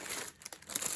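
Pink tissue paper crinkles and rustles in close, quick handling for a brief moment, crisp and fairly quiet with no talk.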